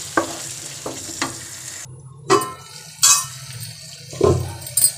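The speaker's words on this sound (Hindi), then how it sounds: "इधर मसाला भी हमारा भून रहा है। मसाला को अभी हम 2 मिनट तक और भूनेंगे।" Masala roasting in a pan for an egg and potato dish, a low steady sizzle with several spatula scrapes and knocks against the pan, one brief silent gap midway, close by and without voices.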